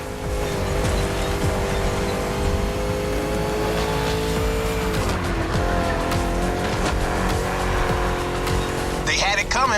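A muscle car races in The Crew Motorfest, its engine roaring loudly and steadily with squealing tires throughout, game music playing underneath and a brief rise in tone near the end.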